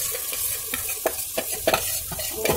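About half a kilo of chopped onions tipped into a hot pan for chicken korma, sizzling loudly while a spoon stirs and scrapes in quick irregular strokes, close up with no voices.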